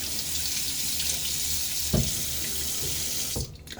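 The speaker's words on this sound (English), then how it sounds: "I do bring in, during my rinses, a little bit of warm water just to bring the temperature up to lukewarm" Warm water runs steadily from a tap for rinsing during a wet shave, a continuous close hiss with a couple of brief splashes as the flow is disturbed near the end.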